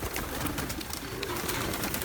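Pigeons cooing softly amid a noisy, busy background of fluttering and rustling, several birds close by.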